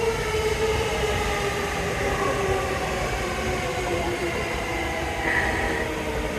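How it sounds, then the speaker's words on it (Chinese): Rapid electric commuter train pulling into a busy station platform in Japan, a steady rolling rumble with a rising whine and a brief higher squeal near the end, close and continuous, with crowd noise around. "对面有电车来了，快速电车进站啦！"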